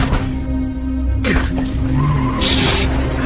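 A car fleeing in a film chase scene, with loud, close tyre squeals and skidding that rise and sweep over a running engine, ending abruptly.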